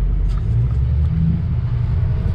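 A 2007 Ford F550 Lariat 4x4 diesel truck, a ton-and-a-half pickup in tow-haul mode, pulls away with a steady, loud low rumble from inside the cab, the engine droning evenly without any voices.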